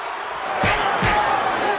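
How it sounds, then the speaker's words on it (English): A boxing arena crowd at a Roy Jones Jr. fight roars in a steady, dense wash, punctuated by two sharp slapping impacts close together. "Crowd loves it."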